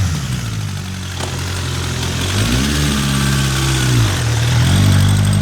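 A 1979 Suzuki GSF1200ST street bike, a 200-horsepower custom build, idles nearby with a loud, throaty rumble that swells and dips slightly in pitch as the throttle is blipped gently.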